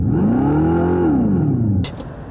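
Electric Dodge Charger playing an artificial exhaust sound, a loud sustained synthetic roar that rises then falls in pitch before cutting off abruptly.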